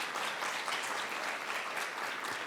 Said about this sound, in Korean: 영상 촬영 팀들 모든 분들께 큰 박수 한번